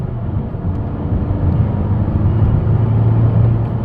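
A 2017 Honda Civic Si accelerating in third gear, a steady low engine drone rising gradually in pitch and loudness, heard from inside the car with no talking.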